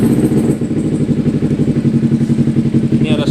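A carbureted Kawasaki Ninja 250 engine runs close by, pulsing in a steady rough rhythm that suggests it has just started.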